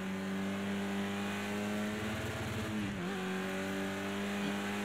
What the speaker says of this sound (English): One of the things I do love about the Caterham is when you do that, it's so quick to spin it around.